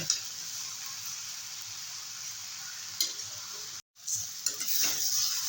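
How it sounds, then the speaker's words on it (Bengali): Water spinach and shrimp stirred and fried in a pan: a steady close sizzle with scraping spatula strokes, a brief cut to silence near the end, then frying and stirring resume. "আরও দু তিন মিনিটের মতো নেড়ে ছেড়ে একটু ভেজে নেব"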